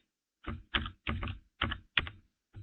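Keys tapped on a computer keyboard while a font name is entered in a design app, a few close, crisp bursts of keystrokes separated by short pauses in an otherwise quiet room.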